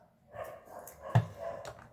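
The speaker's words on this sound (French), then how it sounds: "Désolée pour les chiens qui aboient." Dogs bark in the background indoors, a few scattered moderately loud barks with one sharper close bark in the middle, spaced irregularly and without talk.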